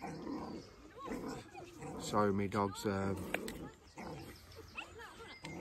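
A dog growling and snarling, apparently squaring up to another dog during a street encounter, with people talking close by over the noise.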